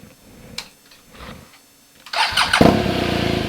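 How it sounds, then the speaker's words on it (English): A BMW R1200GS LC motorcycle, just after an oil and air filter change, sits quietly with faint clicks and shuffling before its engine cranks and fires, then settles into a loud, steady running idle close by. "run the bike, check for some leaks"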